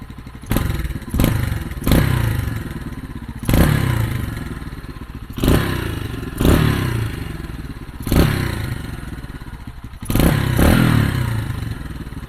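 A warmed-up boxer-engine motorcycle with a straight-through exhaust idles with a lumpy, uneven rumble, punctuated by several sharp blips of throttle that rise and fall.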